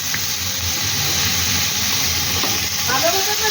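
Ginger paste sizzling and frying in hot oil with asafoetida for achari aloo dum, a steady loud hiss that holds throughout, with faint stirring clinks near the end.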